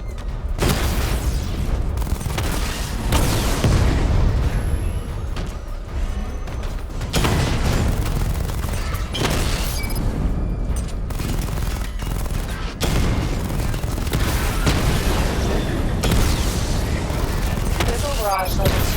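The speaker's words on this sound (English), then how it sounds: "Charge up missile barrage to level 2 and destroy 4 active targets to complete diagnostic test." Batmobile missile barrage in Batman: Arkham Knight, a continuous loud stream of booming explosions and rapid gunfire-like blasts, with brief pauses between volleys and radio-style voices over the top.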